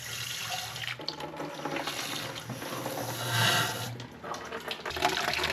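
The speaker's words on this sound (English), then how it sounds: "Take our water hose and try to get everything pushed down through there." Garden hose water gushing and splashing steadily through the engine block of a 94-year-old Ford Model A being flushed clean, a continuous close rush with a few metallic knocks.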